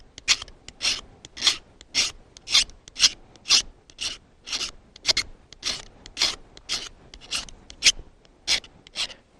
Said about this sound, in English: I've just taken the fire starting tool here and shaved off a pile of the magnesium.